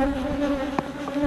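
Honeybees drone steadily around beehives during hive maintenance, a close, continuous buzzing with a brief louder pass near the end.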